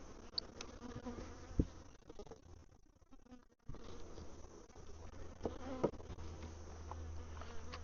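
Honey bees buzz around backyard hives in a steady, soft drone with a brief lull midway and a few individual bees passing closer.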